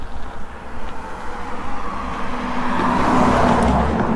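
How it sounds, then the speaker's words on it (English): Several cars drive along an evening road near Joshua Tree National Park, a steady, continuous rumble that swells slightly as vehicles pass nearby, with no talking. "lots of cars driving behind me here"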